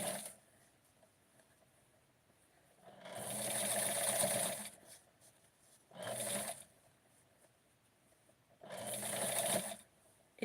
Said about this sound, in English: And when I sew it, I'm going to adjust it.